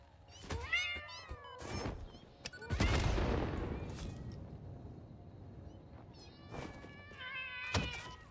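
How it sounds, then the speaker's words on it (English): A radioactive cat in the video game Satisfactory meows several times in harmonic, wavering calls, with a loud burst of noisy rumble partway through and more meows near the end. "It's a radioactive cat."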